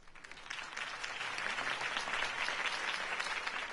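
A crowd in the Batman video game breaks into sustained applause, a dense wash of clapping that swells and holds steady for several seconds with no talking over it.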